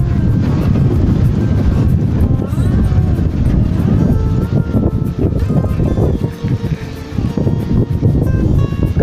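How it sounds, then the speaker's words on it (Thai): Strong wind on the Mekong riverbank, Laos shore opposite, buffets the microphone with loud, continuous low rumbling and gusty roar throughout. "ลมนี่อย่างแรงนะครับไม่รู้ว่าเสียงจะเข้าไมค์หรือเปล่านะครับ"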